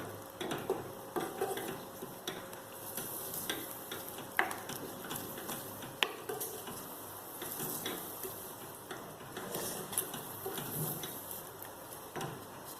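Ground masala for Nellai-style mutton saalna sautés and is stirred in a pan, a steady soft sizzle with scraping and light clinks from the stirring utensil throughout, fairly quiet and close.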